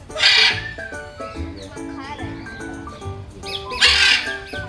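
Birds calling in a zoo aviary in Surat, Gujarat, harsh loud squawks at the start and near the end with shorter whistling and chattering calls between, close by, with a voice talking in the background.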